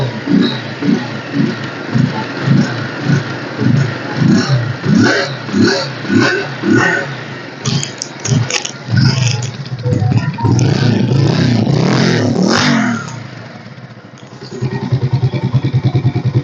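A Bajaj Pulsar 180F motorcycle engine, a 2019 model in showroom condition, rumbles close by with a series of rhythmic revs and throttle blips, then settles into a steady, louder running note near the end.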